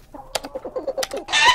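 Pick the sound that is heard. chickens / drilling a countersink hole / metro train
chickens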